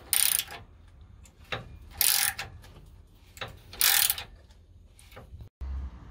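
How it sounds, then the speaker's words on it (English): Wrench tightening sway bar brackets against the frame of a Cummins Ram dually truck during a Hellwig Big Wig sway bar install, giving four bursts of ratcheting clicks separated by short pauses, close and clear with no talk. "we can go ahead and tighten them up against the frame."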